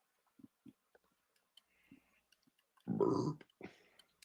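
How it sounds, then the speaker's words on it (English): A single close, loud burp bursts out after a few soft clicks and mouth noises in a quiet room, followed by faint breathy sounds. "burp."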